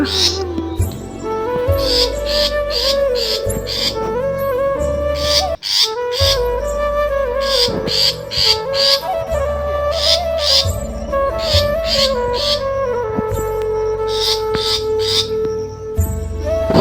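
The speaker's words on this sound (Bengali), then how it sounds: "নিচে ওই পাখির বাচ্চা" Myna chicks in a tree nest call in rapid, repeated shrill chirps, loud and close, over a steady background drone.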